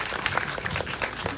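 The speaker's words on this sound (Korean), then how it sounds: "환호성이 터지네요" A film festival audience at a screening talk bursts into applause and cheering, a dense, brief wash of clapping and voices heard up close.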